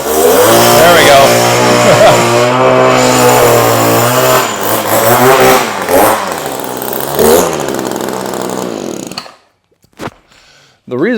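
An Echo power paddle wheel's small two-stroke engine runs loud and close with a buzzing, shifting drone that rises and falls, then cuts out abruptly near the end, leaving brief quiet with a couple of sharp knocks.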